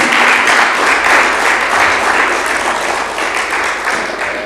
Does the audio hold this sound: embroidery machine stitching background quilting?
no